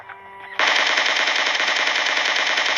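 A rapid, sustained burst of automatic gunfire from a shooting video game, loud and close, hammering on continuously after a brief quieter lead-in, with no talking over it.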